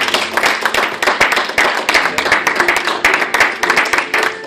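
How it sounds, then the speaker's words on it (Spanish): A church congregation claps together during a Spanish-language service, close, crisp hand claps in quick, uneven bursts that swell and ease over a few seconds. "Dale un aplauso aquí."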